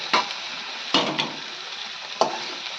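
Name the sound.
potato and okra stir-frying in a pan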